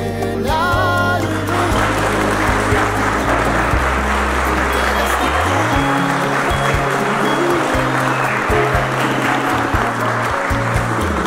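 Loud, dense applause fills a wedding celebration from start to finish, with many hands clapping close by under music.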